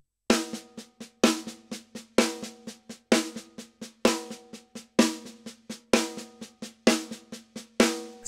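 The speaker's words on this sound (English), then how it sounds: "So the Group B reverse paradiddle will sound like this." A snare drum plays a Group B reverse paradiddle in sharp, evenly spaced strokes, with a strong accent opening each repeating group, close and dry, nine cycles in a row.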